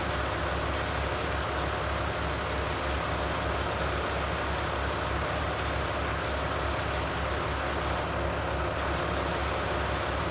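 Tractor idling in Farming Simulator 19 on a dairy farm, a steady dense engine drone that holds unchanged throughout, close and fairly loud with no talk.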